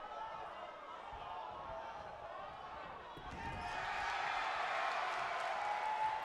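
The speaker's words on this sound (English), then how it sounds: "The crowd finally pops for Vegeta after the cheap shot to Penguin" A wrestling crowd at a backyard-style show swells into a broad roar of cheering for Vegeta after a cheap shot to Penguin, rising halfway through and holding steady, with a faint commentary voice underneath.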